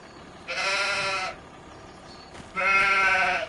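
Two clear sheep bleats from the video game Farming Simulator 25, each lasting close to a second and separated by a short pause. The second bleat is slightly louder, and no one speaks over them.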